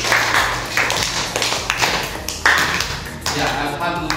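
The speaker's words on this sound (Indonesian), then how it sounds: "Nah, tepuk tangan juga." Children in a third-grade class clap their hands in scattered, uneven bursts of taps, fairly close, with a voice speaking over the clapping.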